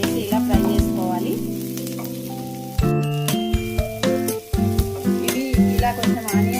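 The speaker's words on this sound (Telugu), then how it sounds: "ఇందులోకి ఫస్ట్ ఆనియన్స్, ఒక 3 ఆనియన్స్, ఒక 2 చిల్లీస్ వేసి ఇలా ఫ్రై చేసుకోవాలి." Onions and green chilies frying in a pan as the base for a paneer curry gravy, a steady sizzle running underneath loud tonal music throughout.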